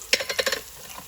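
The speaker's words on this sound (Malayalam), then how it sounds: "അപ്പോൾ ഇതിനകത്തേക്ക് കുറച്ച് കറി ലീവ്സും കൂടെ ചേർത്ത് കൊടുത്തു." Curry leaves dropped into hot oil for a mutton curry give a quick burst of sharp crackling sizzle, several fast pops close up, then fading to a quiet hiss within about a second.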